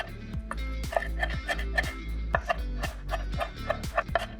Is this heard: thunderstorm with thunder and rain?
no